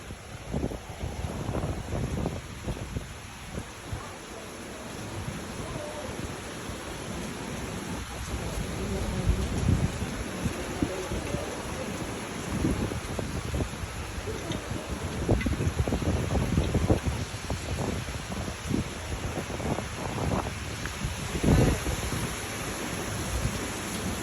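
Strong wind gusts roar and buffet the microphone during a severe thunderstorm in Akron, Ohio, with steady rain underneath and the noise swelling at times, heard close from under an awning.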